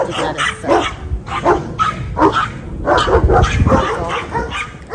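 Several dogs bark outdoors in a garden, with repeated barks and yips scattered across the span at moderate loudness, a little speech mixed in.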